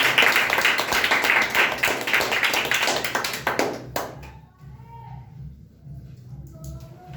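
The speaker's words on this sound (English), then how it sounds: "Well, and clap for him." An audience claps for a speaker at a talk on the importance of a guru, dense and loud for about four seconds before stopping abruptly, followed by quieter room sound and faint voices.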